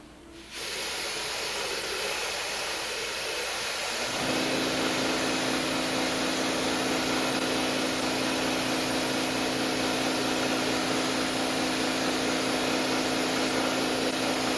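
Gold paint sprayed from a can during a gold-leafing job, a steady loud hiss that starts after a moment and grows slightly stronger partway through, continuing without a break.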